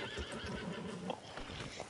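A horse whinnies in Red Dead Redemption 2 alongside clip-clopping hooves, fairly faint and distant against a busy game soundscape.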